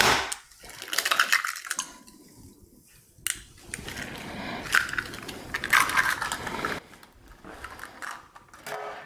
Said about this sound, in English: we're going to crack in 2 eggs